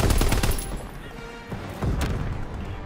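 Shotgun blasts ring out in Call of Duty WW2 multiplayer, a loud booming shot at the start followed by another heavy report a moment later amid dense game noise.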